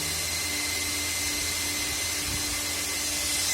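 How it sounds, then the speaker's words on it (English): Steady, loud whirring fan noise from an open Dell PowerEdge R210 rack server, with a constant broadband hiss and low hum running close by without pause. "since the server was open, it's making a lot of noise"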